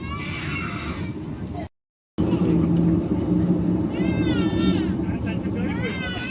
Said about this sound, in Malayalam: ഒരു കുഞ്ഞ് കരഞ്ഞുകൊണ്ടുണ്ട് കേട്ടോ